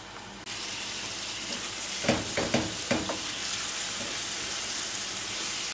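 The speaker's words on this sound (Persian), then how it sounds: "خب الان گوشتشو میریزم." Meat sizzles steadily in a hot pan, a loud continuous frying hiss that starts abruptly, with a few clattering stirs partway through and no talking.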